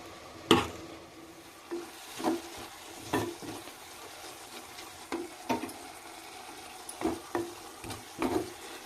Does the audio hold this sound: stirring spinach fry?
yes